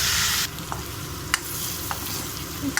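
A steady hiss of frying fills a pan while sambar ingredients cook, with an initial louder sizzle burst and a few soft clicks of stirring, close and alone without talk.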